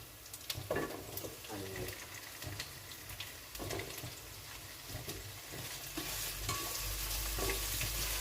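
Paneer frying in a pan for paneer biryani, stirred with a utensil over steady oil sizzle, with scraping strokes and a louder, denser hiss building toward the end.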